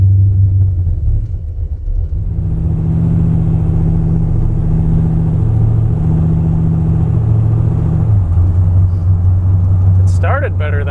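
A 430-horsepower hot rod engine idles and rumbles loudly, a deep steady throb close by that dips briefly as the car pulls away, with people talking over it.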